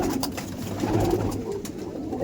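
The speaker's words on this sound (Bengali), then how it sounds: "হ্যাঁ এটা গোলা পায়রা" Rock pigeons coo in a loft, a low rolling burble repeating steadily at close range over a constant background murmur of more birds.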